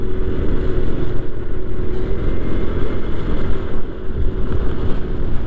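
Strong gusty wind during a storm in Lumajang buffets the microphone with a loud, low, uneven rumble that surges and dips throughout, with no voices.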